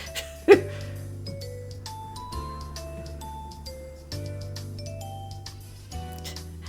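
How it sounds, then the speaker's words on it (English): A single bright bell strike rung by a teacher in the visual novel Higurashi When They Cry, ringing out once near the start over a soft, sustained musical background. "It's either the teacher waving a bell"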